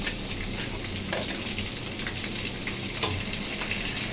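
Onion, tomato and green chilli sauté in a hot pan with a close, continuous crackling sizzle that sounds much like steady rain. Faint stir clinks break in now and then, with no talking.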